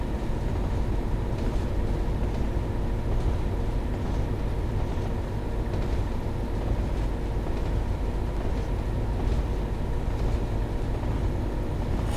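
A locomotive runs steadily in Train Sim World 2 during freight and shunting work, a continuous low rumbling drone with faint clanks that holds at an even level throughout, with no voices.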